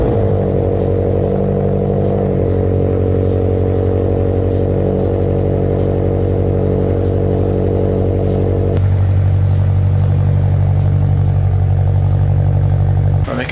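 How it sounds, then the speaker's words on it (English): A Subaru BRZ engine runs at a loud, steady idle just after a cold start, a constant close rumble that shifts slightly in tone near the end. "let's do a quick cold start"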